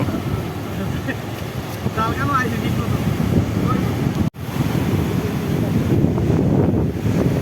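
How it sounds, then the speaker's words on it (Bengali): Rough sea surf and strong wind at Patenga beach, a continuous loud roar of waves with heavy wind buffeting the microphone, while a voice speaks briefly underneath. "সমুদ্র পাড়ের ভিউটা দেখেন একবার, সাগর বেশ উত্তাল।"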